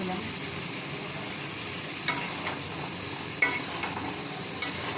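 Prawns fry in spice paste in a pan with a steady close sizzle, punctuated by a few light clicks and stirring scrapes.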